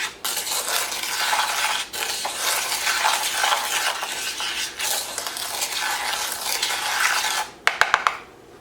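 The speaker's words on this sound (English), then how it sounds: "I'm just going to stir this all together." Granulated sugar and cinnamon stirred together in a bowl, a continuous close gritty scraping and swishing with brief pauses, ending in a few sharp clicks.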